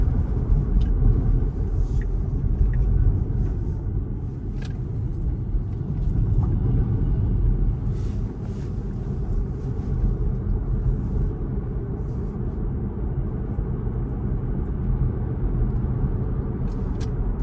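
A Tesla on FSD Beta, towing a trailer while merging onto a highway, gives a steady low road rumble with constant tire and wind noise and a few faint clicks, heard from inside the cabin with no talk.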